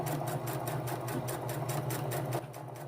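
A Singer sewing machine stitches a lace front wig unit with a steady, continuous mechanical whir and rhythmic needle ticking, fairly quiet and close, running without pause and with no talking.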